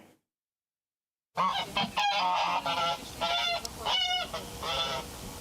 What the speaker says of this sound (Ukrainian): Мова ось про цього гуся.